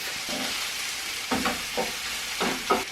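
Soft steady sizzle of food frying in butter in a pan, with a few light stirring clatters near the end; no talking.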